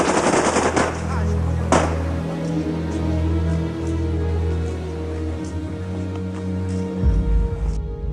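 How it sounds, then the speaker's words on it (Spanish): A firing squad's rapid automatic gunfire bursts loudly in a dense, continuous rattle at the execution of Romania's dictator, with heavy sustained reverberant noise and a few sharper cracks early on. "El pelotón disparó con rabia."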